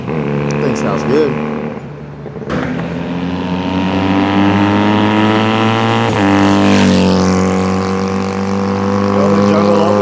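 Close, steady idle from a 1970 Honda CD175 Twin motorcycle engine, with a brief blip of revs near the start and a short throttle rise and fall later on.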